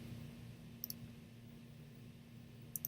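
A computer mouse clicks while pen tool points are placed: two quiet, crisp double clicks about two seconds apart over a steady low electrical hum, with no voices.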